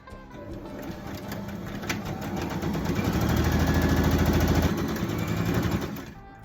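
A sewing machine stitches a small seam along the split side of a skirt, its close, rapid mechanical rattle rising and steadying through the run before slowing to a stop.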